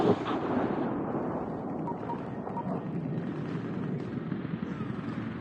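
A missile strike explodes in the 2010 video game Medal of Honor during the Breaking Bagram mission. A sharp loud blast at the start gives way to a heavy, rolling rumble that fades slowly.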